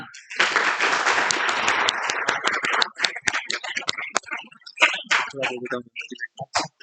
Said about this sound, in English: a round of applause for Vihan